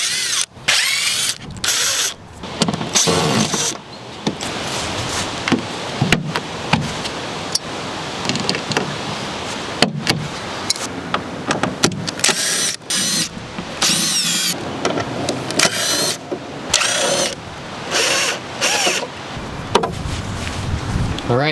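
Sheet metal screws are backed out of a car fender one after another, with a loud, choppy run of power-driver whirs, ratcheting clicks and squeals close up, broken by short pauses.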